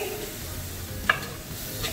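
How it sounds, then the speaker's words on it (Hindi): Butter chicken gravy of blended fresh tomatoes is stirred in a pan over a high flame, giving a soft, steady sizzle with a brief scrape of the spoon midway. No one speaks. "Give this a mix."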